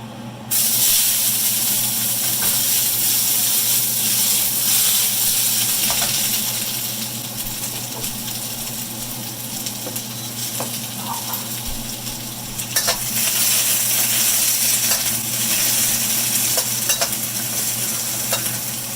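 Peppers sizzle in olive oil in a hot pan, a loud continuous hiss with occasional metallic clinks and stirring scrapes, nearby and without talk.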